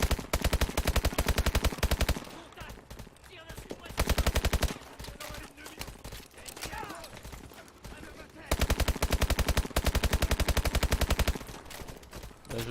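Rapid automatic gunfire from the video game Call of Duty Advanced Warfare, loud dense bursts of machine-gun fire that start and stop in repeated stretches, with quieter battle noise between them.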